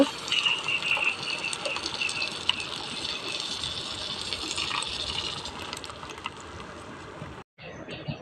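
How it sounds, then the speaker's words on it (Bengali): Dragon fruit juice is poured into biryani meat in a pot, a steady liquid gush and splash running continuously, then cutting off abruptly near the end before a brief resumption. "এখন আমি পরিমাণ মতো ড্রাগন ফলের রসটা ঢেলে দিব"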